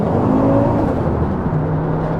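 A 400 bhp Fiat Coupe accelerates hard with its wheels spinning, a loud, steady engine drone with a droning harmonic that holds close and continuous throughout, no voices.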